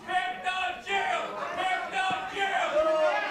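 Wrestling crowd at an All Pro Wrestling event shouting and cheering in loud, overlapping waves of voices, rising and falling in repeated bursts close by.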